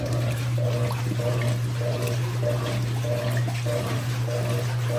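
Water pours and sloshes into a home washing machine drum at close range, a continuous splashing rush with a steady low motor hum underneath and a faint rhythmic churn, no voices.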